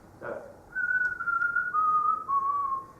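A clear, steady whistled melody of "Ye Banks and Braes O Bonnie Doon", long sustained notes stepping gradually downward, heard alone and fairly close.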